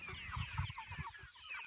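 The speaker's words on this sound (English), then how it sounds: "I'm out here in the pasture with our chickens" Chickens cluck in a loose, overlapping chorus close by in a farm pasture, with soft throaty calls rising and falling continuously outdoors.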